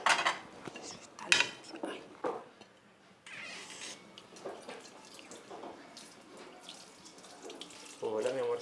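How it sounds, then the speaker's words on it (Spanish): Dishes washed under a running kitchen tap, with water streaming and splashing alongside scattered clinks of plates and cutlery, moderately close, with voices briefly present. "estos platos no sé si están limpios, pero vuélvelos a lavar"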